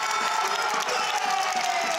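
Home crowd at a men's futsal league quarterfinal applauding and cheering after a goal, steady dense clapping and shouts filling the hall under a commentator's voice.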